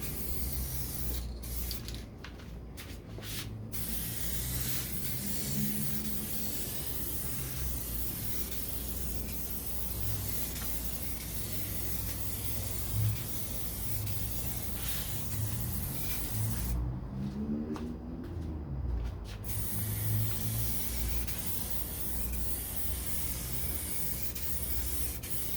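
Steady hiss of spray paint laying a final coat on exhaust shields for a 1969 Corvette C3, continuous and close for most of the stretch, with a few brief pauses between passes.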